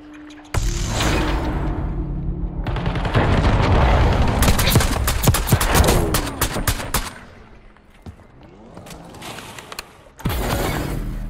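Rapid video game gunfire, repeated loud shots and bursts with mechanical clatter and booms, including an AS Val rifle and a rocket launcher fight against a hacker; bursts come in clusters with short lulls, no talk over them.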